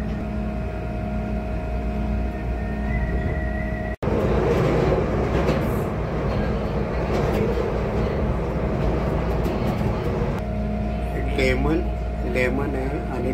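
Rumble of a Chicago CTA metro train heading downtown, riding in the first or last car near Irving Park station, with steady broadband rail noise, a brief dropout, then squealing tones later, under talk.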